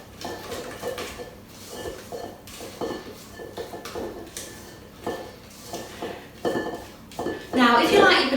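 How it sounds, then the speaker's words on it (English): Banana cake batter with chocolate and caramel being mixed in a bowl with a spatula, producing soft repeated scraping and knocking strokes, close by, ending in a louder burst of clatter. "just with your spatula, just give them just a nice little mix up"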